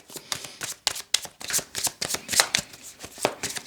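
Tarot cards are shuffled up close in quick, repeated riffling bursts with a crisp papery slap, continuing steadily and without talk.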